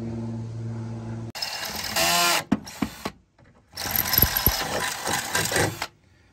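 A hand tool tightens factory bolts while bed stiffeners are installed on a Toyota Tacoma truck bed. Loud, close bursts of rapid mechanical whirring and clicking come in separate runs, with short pauses between them.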